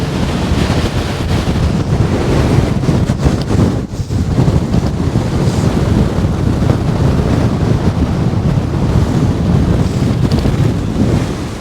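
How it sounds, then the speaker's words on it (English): Strong wind on the summit of Beinn an Lochain, a Scottish Corbett, blasts loudly and continuously across the microphone with heavy roaring gusts, and no one speaks. "Aye, windy and cold,"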